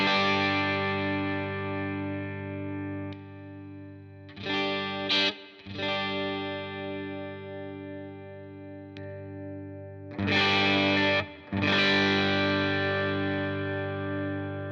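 A PRS SE Standard 24 electric guitar with its neck humbucker split to single-coil, strummed chords ringing and sustaining with brief pauses between, close and alone.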